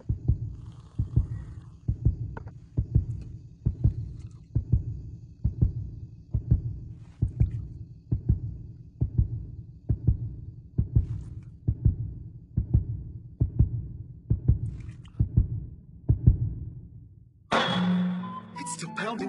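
Pounding heartbeat effect from an English-dubbed anime episode, deep paired thumps repeating at a steady, fairly quick pace, close and prominent, cut off near the end by a burst of brighter noise.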